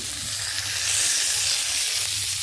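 Chicken hits a pan of frying green chillies and ginger-garlic paste for a spicy chicken fry, giving a steady, bright sizzle and hiss that stays close and even throughout, with no voices.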